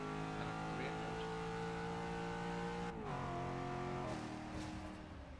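A Corvette's engine races around a track in Forza Motorsport 6, its loud, steady high-revving note holding close up, then dipping in pitch twice as it shifts down and climbs again.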